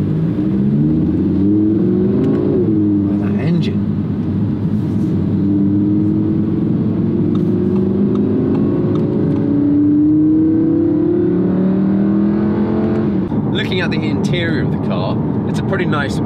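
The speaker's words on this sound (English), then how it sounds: "downshift, you can hear the valve open right now." A 2017 Audi R8 V10 RWS engine revs and drops as gears shift, with a burbling exhaust rising and falling as its valve opens on downshifts; a person talks over the engine noise throughout.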